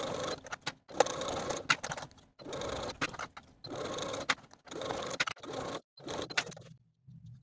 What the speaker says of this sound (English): we can sew the waistband to the top of the pant all the way around with a 5/8 inch seam allowance